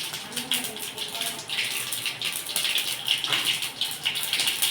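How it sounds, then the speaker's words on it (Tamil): Mustard seeds splutter in hot oil in a kadai while tempering for tomato sambar. A dense, crackling sizzle with rapid little pops carries on steadily and close throughout. "கடுகு நல்லா பொரியணும்."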